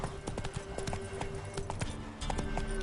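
A horse gallops in The Witcher 3 video game, its hooves beating a quick, irregular rhythm of thuds over a soft game soundscape, fairly quiet and close.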